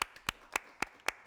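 A few sharp handclaps come in a steady rhythm on a French television talk-show set as a guest is welcomed. The claps are close and evenly spaced, with no voices over them.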